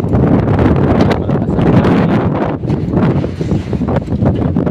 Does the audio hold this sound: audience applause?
no